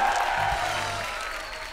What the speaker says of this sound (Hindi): तबू जी के लिए और परिणीति चोपड़ा के लिए जोरदार तालियां हो जाएं।